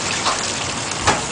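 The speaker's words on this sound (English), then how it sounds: "Add half a cup of water immediately after" Water poured into a pot of simmering chicken curry, a brief splashing gush standing out over a steady bubbling, hissing background.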